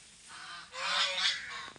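Geese honking loudly in a close, noisy group, calls swelling in a dense burst and then tapering off.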